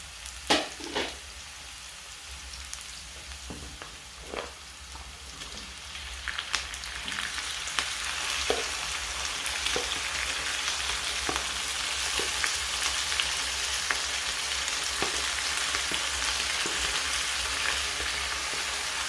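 Chicken gizzards and carrots fry in a pan, a steady close sizzle with sharp crackles and a few stirring clatters, growing denser after the first seconds.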